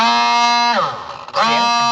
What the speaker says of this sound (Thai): นี่เสียงมอเตอร์หมุนตัวเปล่านะครับ